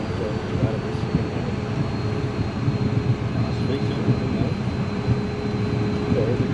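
Williams FJ44-1AP-21 jet engines on an airplane being started, giving a steady, loud broadband roar with a faint whine running through it from start to finish, with no break.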